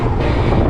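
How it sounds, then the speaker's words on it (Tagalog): Strong wind at an orange farm in Hsinchu, Taiwan, roars as loud, steady, broadband buffeting against the microphone with no voices. "Oh, lakas pa ng hangin."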